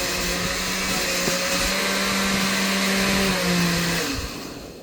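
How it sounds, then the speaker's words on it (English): A kitchen blender whirring through a strawberry milkshake indoors, a loud steady motor drone with a constant hum that holds for several seconds before winding down near the end, no talk. "That is the blender. My dad was making a strawberry milkshake for me."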